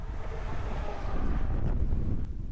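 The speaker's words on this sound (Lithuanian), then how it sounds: "Pažiūrėkit, kaip vėjas taršo ženklą." Insanely strong wind roars and buffets a roadside sign, a loud continuous gusting rumble with heavy wind noise battering the microphone and no voices.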